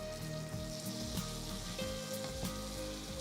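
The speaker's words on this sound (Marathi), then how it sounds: "एक बाजू झाली की ही वरची बाजू पण छान खमंग भाजून घ्यायची." Pav bread rolls toast on a hot pan for spicy thecha pav, giving a steady, close sizzle with faint scattered clicks and crackles throughout, and no voices.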